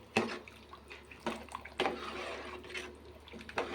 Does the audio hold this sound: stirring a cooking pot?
yes